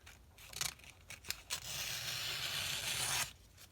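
Scissors cut through paper pages for a handmade December journal, first with a few short close snips and then one longer continuous slicing cut, quiet and alone with no talking.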